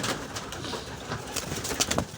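Pigeons in a loft give soft, repeated cooing calls close by, with light rustling and a few brief sharper notes and no talking.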